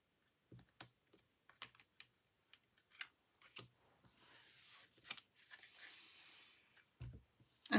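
Tarot cards are laid out one by one on a table for a five-card spread, giving a series of close, soft taps and flicks with short quiet gaps and a brief rustling shuffle partway through. No one speaks.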